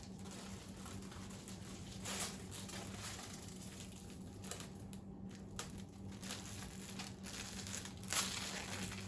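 Protective plastic film is peeled off the body of a Losi LMT 2.0 Son-uva Digger RC monster truck. Quiet, close crinkling and ripping comes in scattered bursts over a faint steady hum.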